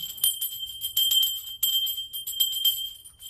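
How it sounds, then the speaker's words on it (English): A small bell rings repeatedly in quick, irregular bursts of bright, tinkling jingles, close and clear with no talk. "Let's ring our bells."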